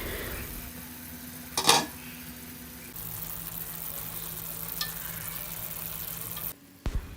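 Spices for Kolhapuri misal roasting in a covered pan, a steady low sizzle under the lid broken by a sharp metallic clink early on and a brief clatter near the end.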